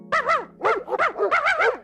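A puppy, given as a Christmas present, barks and yips in several quick bursts, close and loud, with whimpery high tones between the barks.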